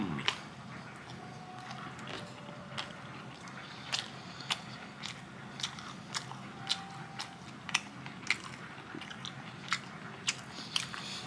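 Someone eats up close, with soft wet chewing and a run of crisp bites and smacks at irregular intervals, fairly quiet and with no talking.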